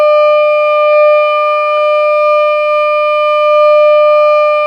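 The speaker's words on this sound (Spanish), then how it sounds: "esta frecuencia que suena son 600 Hz" A steady 600 Hz test tone sounds through an air-filled tube, a pure sustained pitch with overtones, loud and continuous with slight swells in level and faint clicks underneath, no voices.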